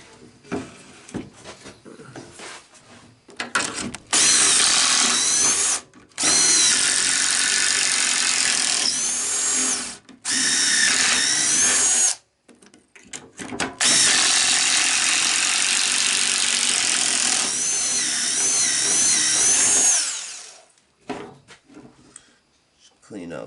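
A power drill bores pocket holes into wood for a reptile enclosure frame, producing loud sustained whirring bursts of several seconds each, separated by short gaps with clicks and handling noise.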